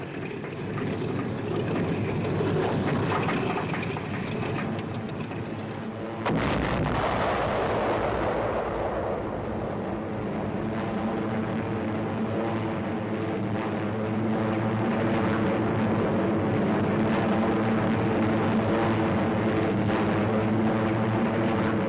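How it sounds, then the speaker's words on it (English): A C-46 transport plane struck by flak dives toward the ground during the WWII Allied Rhine airborne operation, heard as a loud continuous engine roar with a sudden burst partway through, followed by a rising, sustained drone. "C-46, caught by flak, dives toward the ground."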